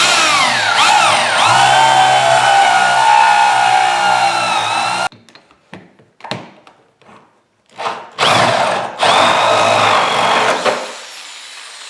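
A 1 1/4 spade bit on a power drill bores a hole through wood, with a loud, steady whining grind for several seconds, then stop-start bursts of drilling and scraping as the bit breaks through.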